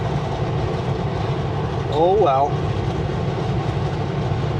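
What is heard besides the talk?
freight train passing, carrying potash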